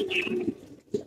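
Pigeons in a racing-pigeon loft give a soft cooing call, a low murmuring coo with a brief higher note, fairly close and alone.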